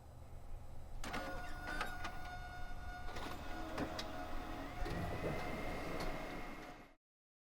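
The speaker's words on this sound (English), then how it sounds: "My printer's out of ink." A home printer runs with a steady mechanical whir, broken by sharp clicks and clunks of moving parts, then stops abruptly near the end.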